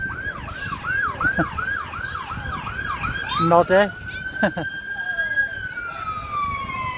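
A wailing ambulance siren at the Blackpool Illuminations sweeps up and down repeatedly, then shifts to a steady rising tone, with a few sharp honks and a brief spoken word over it.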